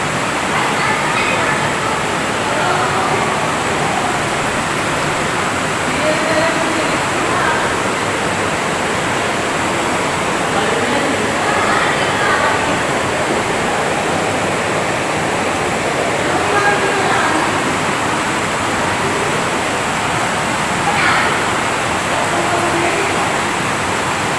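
Water flows steadily inside a cave pool, a constant broad rushing wash that fills the whole stretch without pause, with faint voices now and then beneath it.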